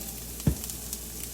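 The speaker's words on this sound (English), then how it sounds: "you're gonna saute the onions" Onions sauteing in oil, a soft continuous sizzle with one brief low thump of stirring near the middle, close and quiet, no talking.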